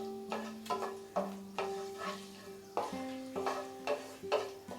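Whole spices (cinnamon, cardamom, cloves and black peppercorns) are stirred as they temper in hot oil in a pan for Bengali lemon chicken. Repeated scraping strokes and light clinks of the spoon on the pan come close and fairly quiet, with faint sizzling beneath.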